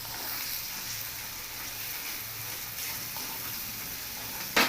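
Red chili powder, salt and turmeric stirred into hot oil in a pan give a steady, close sizzle, with a brief louder knock right at the end.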